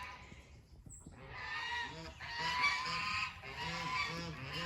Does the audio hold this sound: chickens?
yes